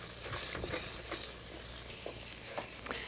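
Carrot halva stirred in a pan, a soft, low sizzle under a series of scraping, thudding strokes of a spoon against the pan at an irregular pace, with no voices.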